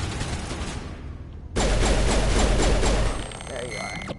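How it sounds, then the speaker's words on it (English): Blaster fire in a space shooter game, a dense loud burst of rapid shots lasting about a second and a half, then trailing off into electronic tones and game noise. "I'm gonna shoot a bit"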